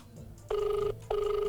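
A telephone rings in two sustained electronic bursts with a short gap between them, loud and steady over a low hum of background noise, with no voices.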